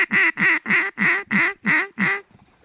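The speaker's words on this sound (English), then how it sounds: "Oh, it's a mallard." A mallard duck quacks seven times in an even, rhythmic series, loud and close over a flooded rice field, followed by brief quiet.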